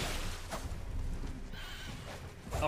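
A horse whinnies twice in Elden Ring, with steady hoofbeats and ambient noise running underneath.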